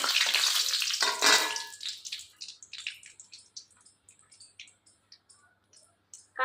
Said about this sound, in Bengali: গরম হয়ে গেছে তেল দিয়ে দিলাম তেজপাতা লঙ্কা শুকনো লঙ্কা